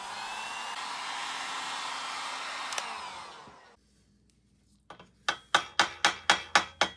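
A heat gun blows on a seized bottom bracket lock ring of a Bridgestone MB-6 bicycle, a steady close whooshing drone that cuts off after about four seconds, followed by a regular run of sharp metallic knocks.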